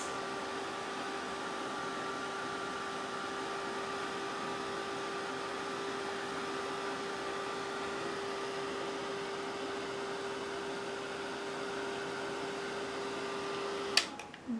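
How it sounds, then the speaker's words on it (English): Ranger heat tool blowing steadily while embossing on Yupo paper with alcohol lift ink, a constant faint whirring hum with a fixed tone, ending in a couple of brief clicks and handling noises. "I'm going to try, instead of using my embossing pen, my embossing heat gun, to use my Holtz Ranger"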